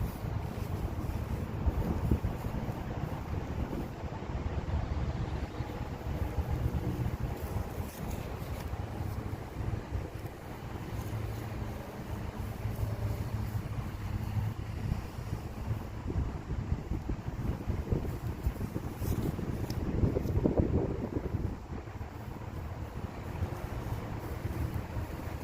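Wind buffets across an open soccer field as a steady roar of microphone wind noise with gusty swells, a strong headwind blowing continuously throughout.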